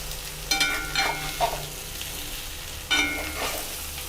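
Arbi (taro root) masala fries in a pan, a steady close sizzle with a few scraping stirs and turns of the spatula breaking through at intervals.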